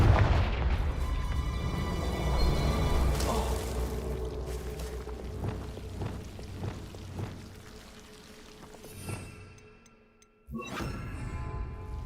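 A Confringo fire spell in Hogwarts Legacy erupts in a booming fiery blast amid dense game music and effects, with more sharp impacts following and a sudden loud burst near the end.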